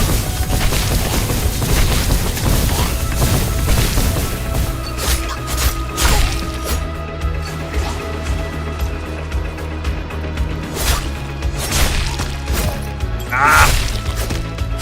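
Enemy death explosion in the video game Dungeons of Hinterberg: dense booming crashes and whooshes layered over continuous loud game music and effects, with sharp hits scattered throughout.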